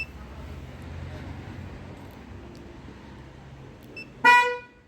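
A single loud Opel car horn blast near the end, after several seconds of low steady engine rumble from a remotely started engine.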